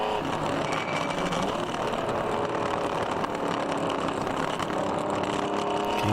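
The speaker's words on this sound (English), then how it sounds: "Listen to that engine and you'll see what we're talking about." A race car engine at a ChampCar Endurance Series national championship race on track, roaring steadily and loud throughout with a dense, continuous mechanical drone and no pauses.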